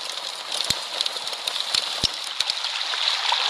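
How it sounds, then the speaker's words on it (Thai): Steady broadband rushing of flowing water from a kalimba meditation phone app, with scattered sharp splashes and knocks, like a river tumbling over rocks, close and continuous. "ได้ยินเสียงน้ำกระทบกับก้อนหินอย่างเงี้ยเสียงสายน้ำ"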